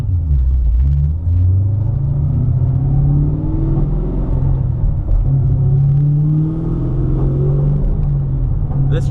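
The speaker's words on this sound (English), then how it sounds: "my car is loud" A gutted Ford Mustang S197 with a T56 manual transmission rumbles loudly and steadily, its deep engine drone rising and falling slightly throughout with no talk over it.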